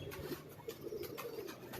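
Soft pigeon coos repeat faintly over a low background hum, a rooftop pigeon heard at moderate distance with no one talking over it.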